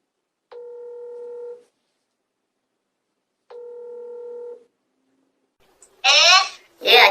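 A phone on speakerphone dials out with two long electronic tones separated by a pause, followed by a burst of ringback or a voice from the handset at the end, heard close and clear.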